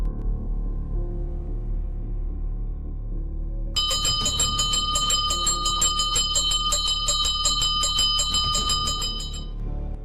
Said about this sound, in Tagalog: kinalampag ang kampana